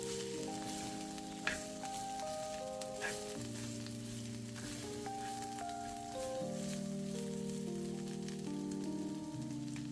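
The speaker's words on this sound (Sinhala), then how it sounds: "ඔන්න මම දැන් ඒක එකතු කරලා පොඩ්ඩක් හැන්දෙන් කලවම් කරගන්නවා" Spine gourd and coconut mixture sizzles steadily in a hot pan while a spoon stirs it, giving a soft continuous frying hiss with a couple of faint scraping taps, all under background music.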